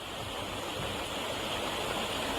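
Floodwater from the rain-swollen Hirri river rushes over a bridge in Seoni, a steady, dense roar of fast-flowing water, close and continuous with no pauses.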